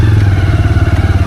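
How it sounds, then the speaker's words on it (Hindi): A motorcycle engine runs close by as the bike is ridden out along a muddy road, its steady low throb pulsing in a quick, regular rhythm with some clatter, loud and without talk. "फिलहाल मैं तो बाइक निकाल देता हूँ"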